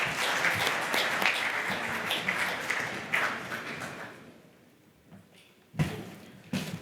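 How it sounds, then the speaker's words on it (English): Audience applause for a panelist at a sustainability event, a full round of clapping that fades out midway, followed by a few sharp isolated knocks or claps near the end. "With big round of applause."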